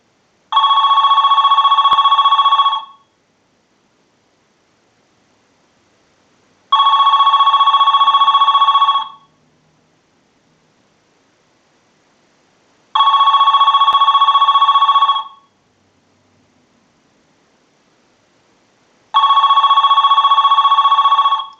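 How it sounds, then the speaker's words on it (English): A Mickey Mouse 210 Trimline telephone rings from an analyzer ring cycle, four loud electronic ring bursts about two seconds long each, separated by roughly four seconds of silence, close and alone. "use the analyzer and send a ring cycle like you were getting a call"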